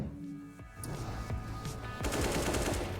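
Rapid rifle and pistol gunfire in a CS:GO match on the Mirage map at a pro esports event, sharp bursts of shots cracking in quick succession at moderate volume, intensifying toward the end.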